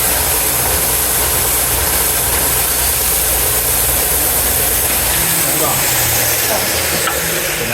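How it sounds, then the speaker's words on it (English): An electric sander works wooden stool legs, producing a loud, steady whirring hiss that runs unbroken from start to finish, with a slight change in tone near the end. "I'm gonna turn on the saw, or not the saw, the sander."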